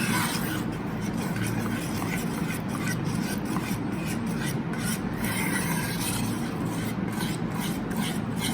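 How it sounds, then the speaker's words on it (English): A spoon scrapes and rubs continuously around a pot of Sindhi kadhi made with tuvar dal and besan over a high flame, giving an even, close rasping texture with no pauses. "And go on stirring this. Mix it nicely. The flame is on high."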